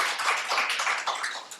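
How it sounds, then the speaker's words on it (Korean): Audience clapping breaks out at a book launch event, a short burst of mixed hand claps from a crowd in a room, fairly loud and continuous before trailing slightly. "다시 한번 오수경 이사님께 박수 한번 부탁드립니다"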